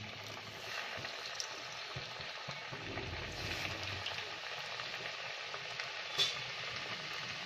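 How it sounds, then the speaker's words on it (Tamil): Breaded KFC-style chicken deep frying in hot oil over a medium flame, a steady dense sizzle and crackle running throughout with one brief sharper pop near the end, no voices. "இது வந்து இப்போ ஆயிலில் வந்து டீப் ஃப்ரை பண்ணி எடுக்க போகிறோம்."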